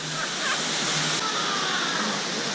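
Dongdang waterfall on the Tso Rolpa trekking route in Nepal, a dense, constant rushing roar of falling water that fills the short stretch evenly and loudly without break.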